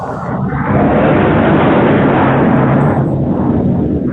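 An aircraft roars overhead, a loud broadband rumble that swells in quickly, holds steady, then eases slightly toward the end, with no voices over it.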